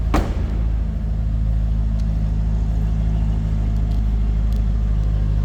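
A 2007 Cadillac XLR-V running, heard from the rear: a steady, loud low exhaust rumble at idle with no talk.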